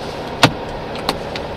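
A short mechanical whir and thunk, then a second fainter one, from inside a 1983 Volkswagen Beetle; quiet idle noise underneath, no talking.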